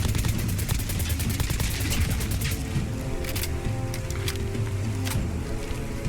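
Rapid bursts of Uzi fire from Fallout 4, heavily modded, crack through the first few seconds as dense repeated shots, then thin into scattered single reports over a steady low in-game rumble.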